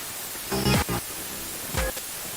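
Spirit box static mixed with generated white noise, a constant hiss throughout, broken by two short bursts of garbled radio sweep, close and moderately loud.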